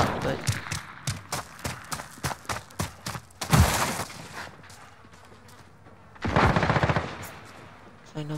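Rapid bursts of gunfire from a gun in the Modern Warfare video game crack in a quick rhythmic series, followed by longer noisy bursts, with a voice talking at moments.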